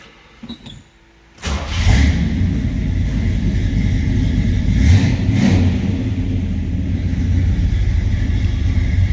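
1972 Oldsmobile Cutlass Supreme with an Olds 350 V8 cranking and catching, then settling into a loud, close, steady rumbling idle with a couple of blips of revving.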